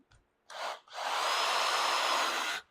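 A powered screwdriver drives a screw into scrap wood on a luthier's bench, with a brief buzzing spurt followed by a longer steady whir of nearly two seconds, close and fairly loud.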